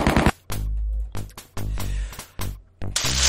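Shots fired during a turn-based battle in the retro PC game Superhero League of Hoboken, several loud synthetic bursts in quick succession with short gaps, heard alone without talk.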